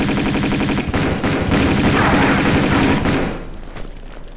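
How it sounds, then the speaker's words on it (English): Video game gunfire rattles in rapid automatic bursts, loud and close, with overlapping shots for about three seconds before tapering off. "that guy was continuing to shoot there and it wasn't nice"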